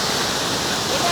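Forceful rushing water at Monkey Falls near Valparai makes a close, continuous roar, with a voice faintly mixed in.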